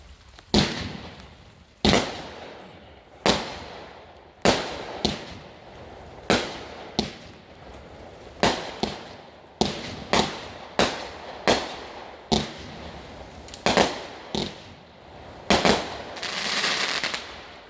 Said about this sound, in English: Tonight's demo, Christmas Eve by Raccoon Fireworks